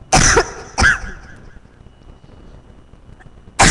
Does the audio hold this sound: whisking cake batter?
no